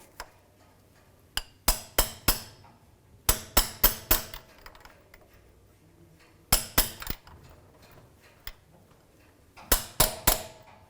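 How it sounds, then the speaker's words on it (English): A hammer taps sharply in short groups of two to four quick knocks, seating a screw-on transmission filter into its housing on a 2005-2010 Dodge Dakota, with pauses between, close up in a quiet space. "just give it a tap with a hammer, because we want it to seat right into that housing"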